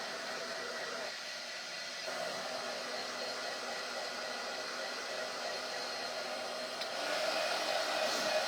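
A hair dryer blows steadily on wet craft paint, making a close, continuous whooshing roar that runs unbroken and swells slightly louder near the end, with no talking.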